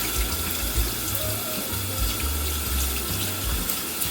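Tap water runs steadily into a sink while hands are rinsed clean after scrubbing, a continuous close splashing rush with no talk.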